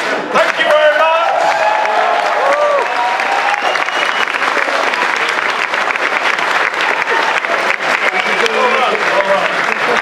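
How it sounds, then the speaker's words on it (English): Crowd applause at RuneFest 2013, a Runescape fan convention, steady clapping with scattered cheers and voices mixed throughout, a moderately close hall crowd without breaks. "Did you hear that clap there? That was a pity clap."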